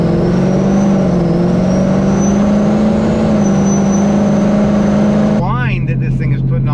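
A 2022 Ford Mustang GT with an ESS G3X supercharger and loud cut gears drives along, its steady engine drone carrying a prominent tonal supercharger whine that rises gently in pitch before the sound shifts near the end.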